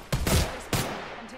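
Gunfire in Apex Legends: two loud, close bursts of shots about half a second apart, each trailing off into a fading echo.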